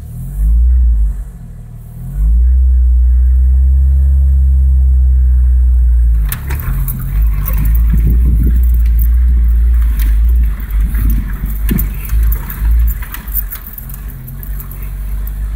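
A Jeep with a manual gearbox pulls away and gathers speed, its engine rumbling loudly and rising in revs, then dropping briefly at a clutch-in gear change before building again, close and steady.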